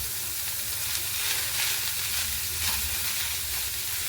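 Grated potato goes into a sizzling vegetable cutlet mixture in a pan, giving a continuous close frying hiss with soft stirring texture throughout and no voices.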